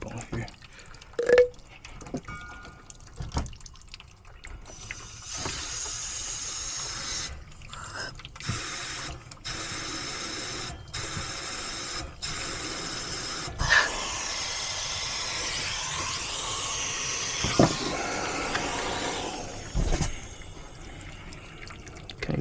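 Compressed nitrogen blasts through a cut HVAC condensate drain line, a loud broadband hiss in several bursts of a few seconds each, with sputtering and dripping water between them.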